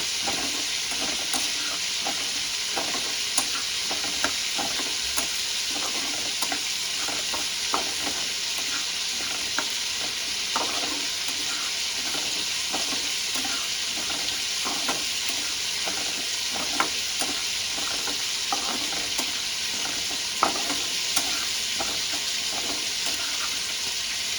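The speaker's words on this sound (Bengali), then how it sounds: "জিরেটাও ভাজা হয়ে যাচ্ছে।" Cumin seeds dry-roast in a pan beside chicken frying for a doi chicken dish, a steady close crackle and hiss with scattered light clicks and scraping stirs throughout, no voices.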